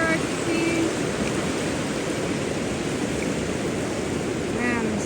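Ocean waves wash steadily onto a sandy beach in a continuous broad roar of surf, loud and unbroken, with faint bird-like chirps near the start and end.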